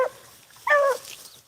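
A beagle out rabbit hunting gives a short, clear yelp-like bark at a moderate distance, following a fainter cry at the start, in an otherwise quiet outdoor setting.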